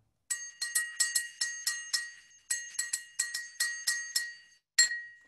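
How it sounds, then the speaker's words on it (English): Drinking glass struck repeatedly with a knife and played as a bell, giving bright ringing clinks in quick rhythmic bursts with a short pause, then one final louder strike, close and clear, no talking. "So here is your bell, glass, and a knife."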